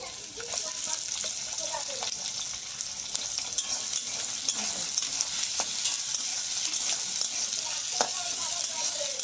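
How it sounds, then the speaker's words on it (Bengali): Onions go into oil with browned garlic and fry in a pan with a steady, close sizzle. Scattered clinks and stirring scrapes sound throughout, and there is faint background activity. "এবার দিয়ে দেবো পেঁয়াজগুলো।"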